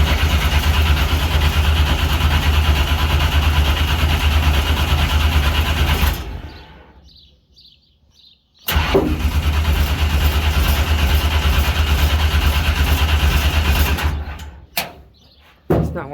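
A race car engine runs loudly and steadily, then cuts out into near silence for about two seconds before abruptly restarting and running hard again. It drops away near the end with a couple of sharp clunks.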